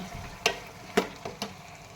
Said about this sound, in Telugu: టమాటాలు వేసి ఒకసారి మనం కలపెట్టుకోవాలి